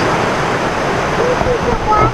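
Taughannock Falls pours in a steady, broad rush of falling water, heard from a bridge with a constant roar throughout and faint voices over it.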